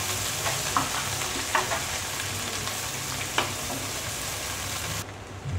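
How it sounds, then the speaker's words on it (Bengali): Chopped onions fry with panch phoron spices in a pan, giving a steady, close hiss of sizzling oil broken by a few sharp knocks of a stirring spoon. "পেঁয়াজটা একটু ভাজা ভাজা হয়ে গেলে"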